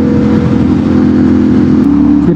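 Motorcycles riding past on a road, a continuous loud engine drone and whir with steady low rumble, heard up close for a couple of seconds without talk.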